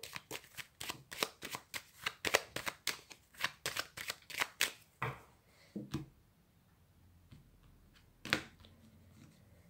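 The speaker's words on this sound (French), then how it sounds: "Je vais faire un tirage. Je vais faire une coupe avec mon tarot." A tarot deck is shuffled and cut by hand, with a quick run of crisp riffling card slaps close up, then a pause and a few separate taps and a final sharp snap.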